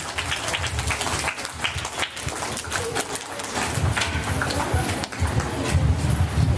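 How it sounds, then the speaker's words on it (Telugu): A group of children claps hands together during a school Ugadi celebration, a dense, continuous patter of many close, overlapping claps that holds steady throughout. "చప్పట్లు కొట్టండి."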